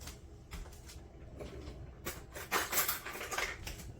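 A spoon scrapes and clinks against a dish while tomato cracker salad is stirred and scooped, giving a run of irregular close-up scraping and tapping sounds that grow busier toward the end, with no voices.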